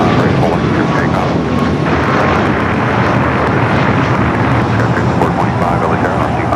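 Jet airliner thundering down runway 25 right at LAX on its takeoff roll, a loud, steady broadband engine roar filling the whole stretch without letup.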